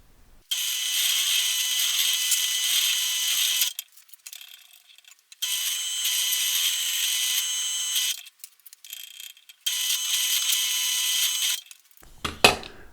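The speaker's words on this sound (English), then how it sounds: "I need to counterbore these to recess the bolts that I'm going to hold this all together with" Counterboring bolt holes in a router jig with a power drill, three sustained high whirring runs of several seconds each, separated by short quiet pauses, with a brief clatter at the end.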